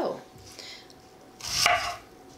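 A knife slices through an onion on a cutting board in a few soft, separate strokes, with a brief louder cut near the end, quiet and close, with no talking.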